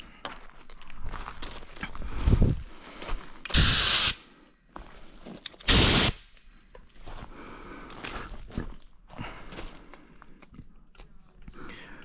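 Two sharp bursts of compressed air hiss out the bar tip of a STIHL 500i chainsaw, each about half a second, loud and close, between quieter handling clicks and rustles.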